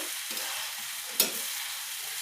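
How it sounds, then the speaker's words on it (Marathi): Cooked rice sautéing with vegetables for a vegetable pulao gives a steady, hissing sizzle throughout, with one sharp stir or scrape near the middle. "या शिजलेला भात टाकते त्या भाज्यांमध्ये चांगला परतून येते भातला"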